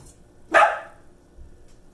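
A dog lets out a single sharp, close bark indoors during a home cooking stream. The bark is loud and short, followed by quiet background, with no talking.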